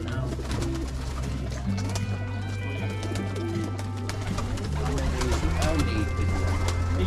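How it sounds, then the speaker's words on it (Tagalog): Pigeons coo on a farm, a low repeated hooting that stays steady and close under background music. "May pigeon siya."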